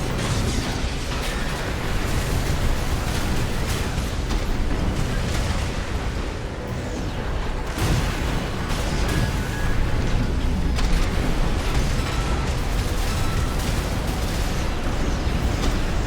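Missiles exploding during an Arena Royale battle in Armored Core VI, a continuous dense roar of overlapping blasts and booms, loud throughout with no pauses.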